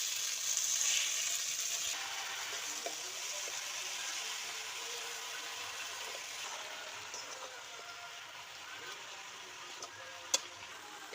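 Malabar spinach tipped into a pan of frying pumpkin and potato, giving a steady bright sizzle that stays fairly constant throughout, with a faint stirring clink near the end.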